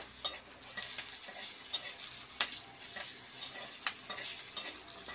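Slit chilies sizzle softly in a kadai while a utensil scrapes and stirs in irregular clicks, fairly quiet and close, with no talking.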